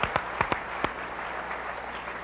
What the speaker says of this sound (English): A round of applause for Willem.